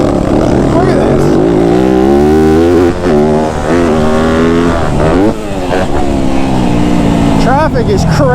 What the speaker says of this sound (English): Like I can hammer on the throttle way easier.